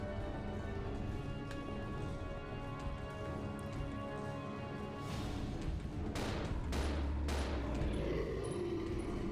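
Gunfire from a magnum in a video game, with several loud broadband bursts near the end over a dense, continuous game soundtrack.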